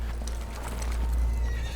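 Horses gallop away with loud, dense clip-clop hoofbeats over a heavy low rumble, and a neigh rises through the mix.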